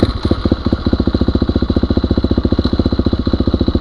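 A motorcycle engine fitted with a Rekluse clutch pulls away in first gear, its loud, close exhaust chugging in a rapid, even rhythm of pulses that hold steady without a change in pitch.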